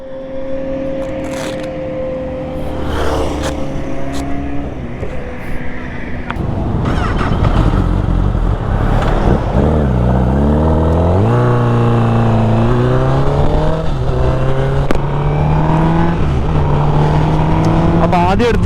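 A sport motorcycle on a morning group ride with Kawasaki ZX-10R and Honda CBR1000RR and CBR650R bikes passes by, its engine note rising and sweeping in pitch as it approaches and revs, loud and close, with faint background noise.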